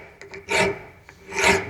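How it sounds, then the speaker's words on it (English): Two strokes of a metal file rasping across a zirconium knife part, each broad rough scrape preceded by a few lighter taps, close and fairly loud with no talking. "it does seem to file easier than titanium"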